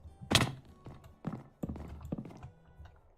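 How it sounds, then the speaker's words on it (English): A zombie horse in Minecraft moves with a handful of hollow clip-clop hoof thuds in an uneven rhythm, close and moderately loud, with a sharp first impact. "Yeah, the zombie horse."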